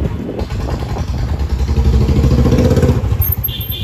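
A motorcycle exhaust rumbles close by, its throaty low burble growing louder as the bike passes, with a faint high whine near the end.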